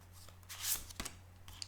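Tarot oracle cards are shuffled and drawn by hand, with a few faint, brief papery flicks and snaps spread over a quiet moment.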